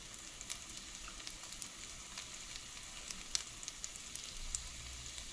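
Butter sizzling steadily in a frying pan for French toast made with fruit bread, a close, even hiss with faint scattered pops and crackles throughout.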